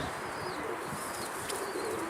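A pigeon coos softly and repeatedly amid steady background noise, with faint chirps and no voices.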